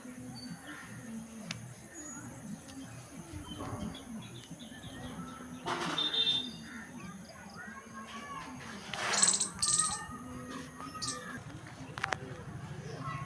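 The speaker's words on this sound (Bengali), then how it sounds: "এখানে কত পাখি আছে" Birds chirping around a village, faint scattered calls and tweets over background noise and quiet voices, with a couple of brighter chirps standing out.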